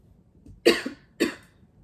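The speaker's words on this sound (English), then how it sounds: "with the way that I just coughed" A person coughs twice in quick succession, close and sharp, with a short breathy tail after the first cough and quiet room tone around them.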